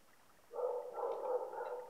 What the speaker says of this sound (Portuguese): Esse que tá latindo